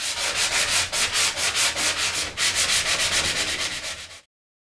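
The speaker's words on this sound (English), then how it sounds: "Get yourself a 150 grit or 200 grit sanding sponge at your local home improvement store" Rapid, rhythmic back-and-forth scrubbing of a 150 or 200 grit sanding sponge on a surface, close and loud, a steady series of rasping strokes that stops abruptly.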